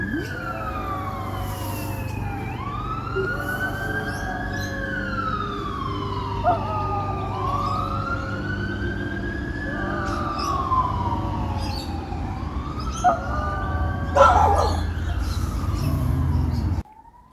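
A Spitz dog howls in long, sliding wails that rise and fall, repeated several times in a steady cycle over a constant low background hum.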